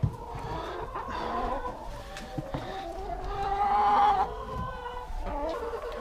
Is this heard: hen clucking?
yes